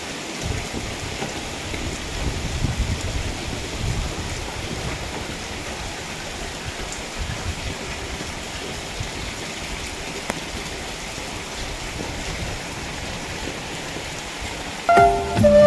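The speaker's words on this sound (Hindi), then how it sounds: "इतनी ज़ोर से बारिश होने लगी है ना" Heavy rain pours down steadily outdoors during a monsoon storm, a dense, loud, constant hiss of drops with a brief louder thud near the end and no talking.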